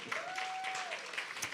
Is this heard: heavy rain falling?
no